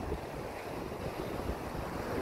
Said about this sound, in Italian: Adesso c'è un po' di vento, siamo a metà febbraio.